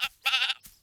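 Cartoon sheep on a farm bleat in a short burst that acts as a ringtone: a quick blip, a longer wavering bleat, then a brief tail, all close and clear with no speech.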